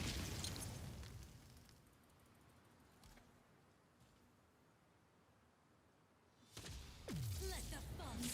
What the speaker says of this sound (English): Wait for the explosion and then res.